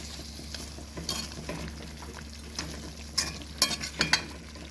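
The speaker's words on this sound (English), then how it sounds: "you want to stir that as soon as you add it so that you don't get any lumps" Jamaican curry chicken stirred in a pot, soft scraping and clinks of a utensil against the pot over a low simmering sizzle, with a few sharper knocks near the end.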